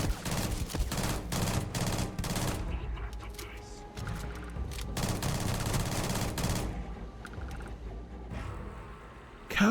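Rapid automatic gunfire in the space game Starfield comes in dense bursts with short pauses between them, loud and close, with the echoing booms of shots mixed through the volleys.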